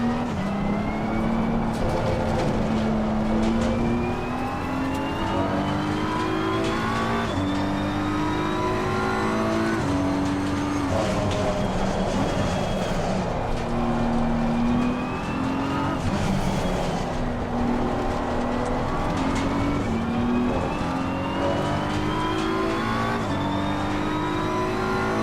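BMW M4 GT3 race car engine in the racing game Assetto Corsa Competizione, a loud continuous roar that climbs and drops through repeated gear changes, with rising revs and occasional tire noise, no voices.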